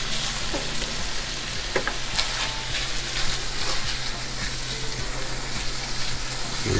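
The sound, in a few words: meat being mixed with enchilada sauce in a hot pan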